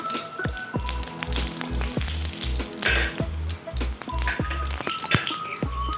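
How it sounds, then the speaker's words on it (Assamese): Loud, close sizzling of bay leaf, dried red chilli and panch phoron frying in hot oil in a kadai, with a continuous crackle and repeated low knocks like a utensil stirring the pan. "কেৰাহী গৰম দিছোঁ, তেজপাত আৰু শুকান জলকীয়াটো আৰু এয়া পাঁচফোৰণ।"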